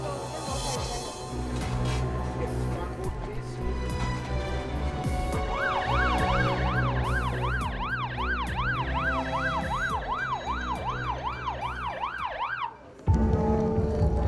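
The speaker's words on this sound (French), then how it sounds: "Il est évacué par une ambulance." An ambulance siren wails in a rising and falling pattern over steady traffic rumble in Johannesburg, cutting off abruptly near the end.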